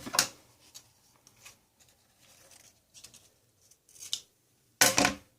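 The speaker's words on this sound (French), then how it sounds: "Catherine, je coupe ton petit nom." A pair of scissors snips through a small paper name slip, several quiet crisp cuts spread out and then one louder final snip, close by with no speech over them.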